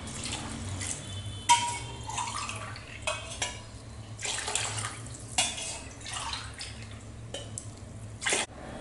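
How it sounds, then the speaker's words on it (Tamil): Water splashes and trickles into a metal pot while cooking tomato biryani, in several short bursts, with clinks of the vessel and a low hum of background noise. "இப்போ தண்ணி சேர்த்திடலாம்."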